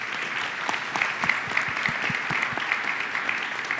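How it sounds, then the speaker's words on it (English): A round of applause from a convention audience at a national political party gathering, steady dense clapping throughout without a clear break. "so a big round of applause for Matt, please."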